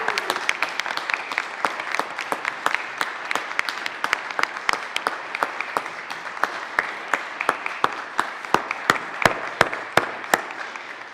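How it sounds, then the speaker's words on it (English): Applause in the Colorado Senate chamber during a 2023 legislative session, a steady wash of clapping from the members with sharp individual claps standing out, lasting throughout at moderate loudness and without talk. "please join me in giving them a round of applause."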